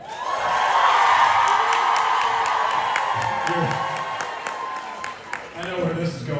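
A large convention crowd roars with applause, whoops and high-pitched screams for actor Jared Padalecki, a sustained wall of cheering and clapping that stays loud throughout.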